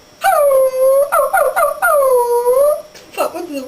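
A human voice imitating a wolf howl, loud and close: a long rising-and-falling howl with short broken yips in the middle and a final shorter howl, alone without other talk.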